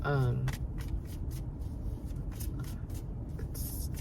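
Tarot cards are riffled and shuffled in quick, papery bursts close by, with a brief voice at the start.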